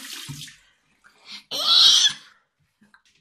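Tap water running in a home bathroom while a face is washed with soap, a short splashing burst and then a steadier rush of about a second, close by, with brief gaps and a soft vocal sound at the start.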